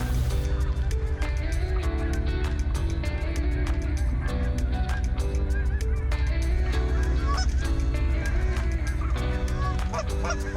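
Canada geese honk in flight on a waterfowl hunt, a loud overlapping chorus of repeated honks going on without a break, with occasional voices underneath.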